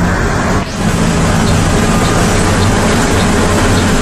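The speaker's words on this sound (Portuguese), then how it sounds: "Olha que lindo ônibus." A city bus in Macaé, Brazil, rumbles loudly and steadily with a constant engine drone and road noise, heard from close by with no talking.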